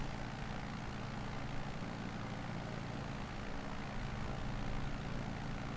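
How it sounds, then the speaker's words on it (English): A propeller airplane in a multiplayer video game drones steadily and evenly throughout, a constant engine hum with no talk over it. "That plane there."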